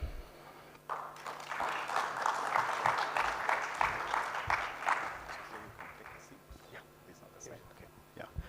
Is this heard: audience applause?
yes